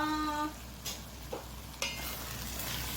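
Tomato paste is stirred into browned meats for chili, with a steady sizzle in the pan and a few scraping strokes of the spoon.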